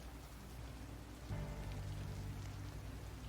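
Steady rain pours down during a rainy downhill race scene in the anime Initial D, a dense continuous hiss of falling drops that thickens and grows louder partway through.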